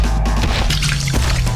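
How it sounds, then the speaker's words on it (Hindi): A bucket of water is dumped onto a person in one loud, close, splashing pour lasting under two seconds. "इस बकेट का सारा पानी अभिमन्यु पे गिरा दो।"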